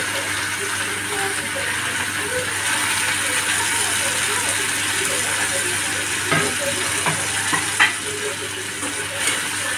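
Tomatoes drop into a pan of browned frying onions, giving a continuous loud sizzle with scattered clicks and scrapes of a spatula, close up and without speech.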